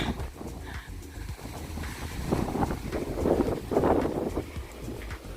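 Wind blows through an outdoor olive orchard, a steady broadband rush that buffets the microphone and swells in strength toward the middle before easing slightly, with no voices heard.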